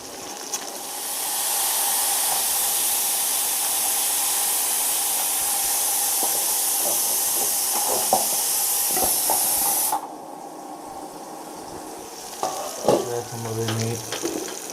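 River fish caught on a hook fries in hot oil, a steady loud hiss and sizzle for about ten seconds that then drops to a softer bubbling with some clatter near the end.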